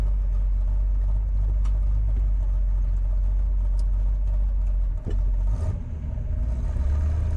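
A 1963 Chevrolet Corvette Split Window Coupe engine rumbles steadily and loudly at close range, easing down toward idle with a deep, continuous low drone and no talk over it.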